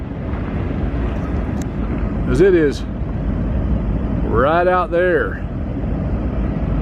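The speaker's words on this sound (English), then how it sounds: "you can hear the train rumbling behind me" A steady low rumble of a train rolling past at a distance behind a church in Amboy, California, runs throughout while someone speaks briefly over it.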